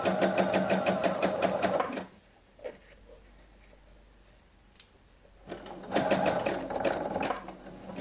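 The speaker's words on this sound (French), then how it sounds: "je vais maintenant pouvoir piquer sur les lignes que j'ai reportées" A sewing machine stitching along pleat lines on a blouse, two fast rhythmic runs of close needle clatter separated by a quiet pause with small handling clicks.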